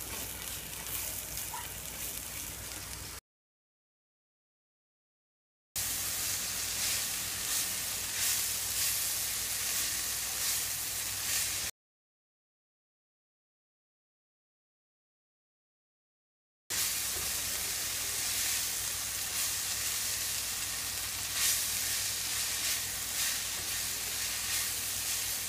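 Kale and mushrooms sauteing in grapeseed oil, a loud steady hiss of sizzling that runs in long unbroken stretches, broken by gaps of silence.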